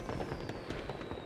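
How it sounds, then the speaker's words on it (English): Fireworks in an animated game character video, a dense rumble of booms and crackling bursts layered over music, steady and fairly loud for a short stretch. "Whoa, fireworks for 4th of July."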